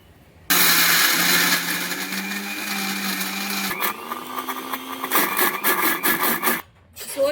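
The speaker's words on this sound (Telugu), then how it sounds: "సో ఇప్పుడు మనం మిక్సీ పట్టుకుందాం" A mixer grinder grinding corn whirs loudly and continuously, its motor pitch shifting slightly as the contents blend, then stopping briefly before restarting.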